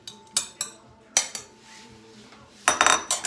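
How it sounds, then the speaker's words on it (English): Metal utensils clank against a pot in a home kitchen while chicken taco soup is returned to it, several sharp clinks in bursts separated by quieter moments, close by with no talking. "So we'll take the rest of that soup and put it right back into the pot."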